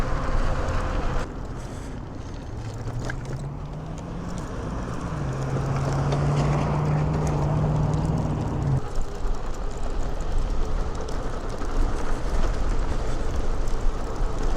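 A 1500W Voilamart electric bike kit rides through cold, chilly wind, heard as continuous loud wind rumble and buffeting with a faint whining motor tone rising midway, close and steady, with no talk.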